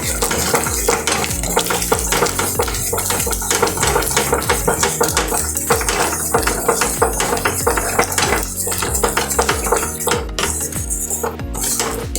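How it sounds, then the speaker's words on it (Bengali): Whisked curd being stirred into a rohu fish curry on a low flame, with continuous metallic spoon-on-pan scraping and a soft simmering sizzle, close and steady with no talking. "একদম লো ফ্লেমে কার্ডটাকে এর সাথে মিক্স করে দেবো।"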